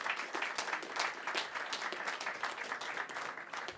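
Audience applause at the SME Star Awards 2018 ceremony, a steady moderate burst of many hands clapping in a hall, fairly even throughout with no voices on top.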